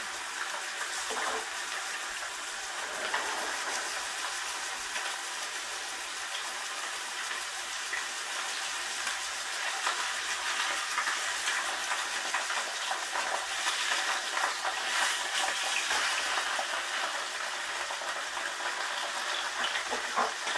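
Trout fillets frying in a pan outdoors, giving a steady, dense sizzle with crackling spits throughout, fairly close and uninterrupted by talk.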